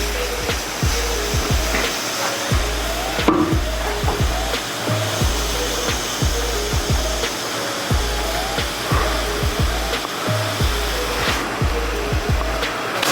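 Air suspension bags on a 1954 COE 5700 truck are filled through a Schrader valve, and a loud, continuous rush of air runs the whole time, broken by a regular train of low thumps.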